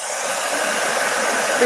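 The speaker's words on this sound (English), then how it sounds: "Let me blow dry this guy off. I use a heat tool." Steady, loud broadband whoosh of an industrial-strength heat gun blowing hot air continuously at close range.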